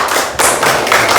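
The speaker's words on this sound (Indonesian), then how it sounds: "Oke, beri tepuk tangan untuk kelompok 1." Short burst of hand clapping for the first student group in a classroom coding lesson, a few quick claps running together for just over a second, close and moderately loud.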